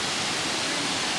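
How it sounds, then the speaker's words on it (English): Curtis Falls, a waterfall in the Gold Coast Hinterland forest, produces a dense, even broadband rush of falling water, steady and moderately loud with no voices. "And here we have Curtis Falls."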